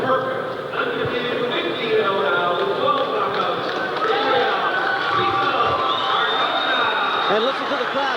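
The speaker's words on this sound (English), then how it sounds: "And listen to the crowd, David. They're loving it." A 1995 fieldhouse boxing crowd in an arena roars and cheers steadily, a loud, continuous wash of voices and applause with occasional shouts and thuds.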